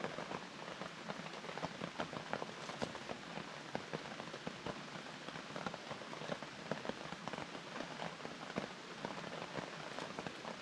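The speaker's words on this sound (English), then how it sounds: "with a bit of luck, this rain eases off" Rain patters steadily onto a bivvy shelter at a solo wet-weather camp, a dense, continuous hiss of drops with scattered sharper taps close by, fairly quiet and with no talking.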